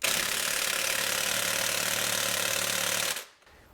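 An Earthquake XT impact wrench hammers hard and continuously on the 18mm crank pulley bolt of a 2006-2009 Ford Fusion 3.0 V6, a loud close rattling roar that cuts off abruptly near the end.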